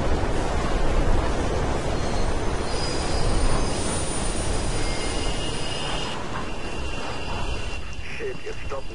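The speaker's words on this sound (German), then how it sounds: "Hinter dir kommt ein Zug, also nichts wie raus da." Train rushing through a tunnel behind the player in Mirror's Edge, a loud continuous rumbling roar with squealing wheels and metallic rail noise, steady throughout and easing slightly toward the end.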